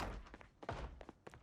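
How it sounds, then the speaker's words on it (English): Muffled thuds of a zombie banging behind a closed door upstairs in Project Zomboid, coming as a few irregular knocks spaced apart, moderately loud and somewhat distant. "I hear something banging around."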